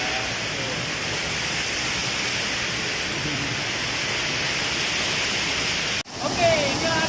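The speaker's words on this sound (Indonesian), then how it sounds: "inilah dia air terjun Mengaya di Kota Takengon, Provinsi Aceh" A loud, steady roar of falling water at Mengaya waterfall in Takengon, Aceh, rushes continuously, close and full, briefly cut out near the end before resuming.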